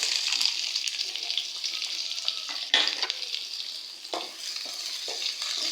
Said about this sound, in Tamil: இந்த வெங்காயம் நல்லா ப்ரௌன் கலர் ஆக வரைக்கும் இது நல்லா வணக்கிடலாங்க